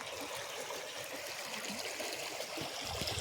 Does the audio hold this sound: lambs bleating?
no